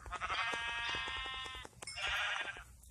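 A sheep in a survival video game bleats loudly and close, one long wavering call followed after a brief gap by a second shorter bleat.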